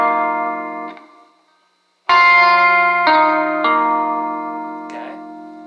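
Clean, effected electric guitar plays the chord shape from a song's intro. One chord rings and fades, then a brief gap leads into several bright strummed chords with echoing shimmer that sustain and slowly decay, with no talking.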